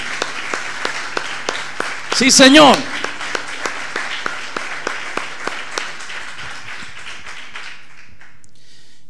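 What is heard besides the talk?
church congregation applauding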